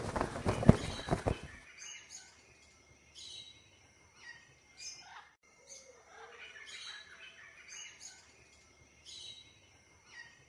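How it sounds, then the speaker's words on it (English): Cartoon parrot chirping and squawking in a Peppa Pig scene, a run of short bright calls following a loud burst of noise at the start. "Can you help Peppa make the parrot fly?"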